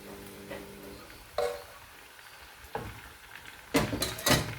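A spoon scrapes and clinks around a pot of red lentils and garlic, soft intermittent knocks and stirring swishes over a quiet background sizzle, with no talking.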